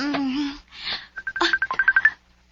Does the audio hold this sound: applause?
no